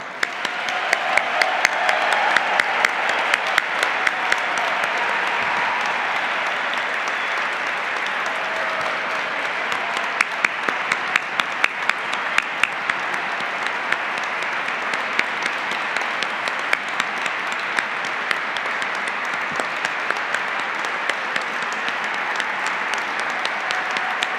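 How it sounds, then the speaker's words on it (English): Applause for honorees at the 46th Oklahoma Governor's Arts Awards ceremony, a long sustained ovation from a large audience, dense and steady for over twenty seconds with sharper individual claps rising above the wash. "Please help me give a final round of applause to all of our honorees."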